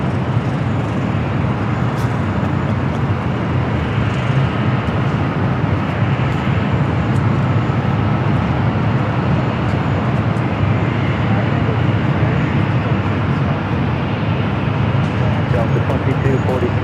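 A departing airliner roars continuously from LAX, a loud broad jet rumble filling the whole stretch, with people talking faintly underneath.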